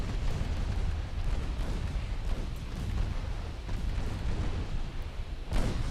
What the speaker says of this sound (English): We're just gonna go fire some torpedoes off.